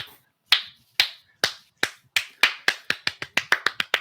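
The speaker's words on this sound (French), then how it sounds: "Slow clap." A slow clap: single hand claps start widely spaced and gradually speed up into a quicker, evenly spaced rhythm, crisp and close, with no voices.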